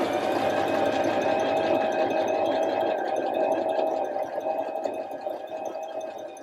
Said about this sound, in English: I'm just going to sew straight over the top of that to secure the stitch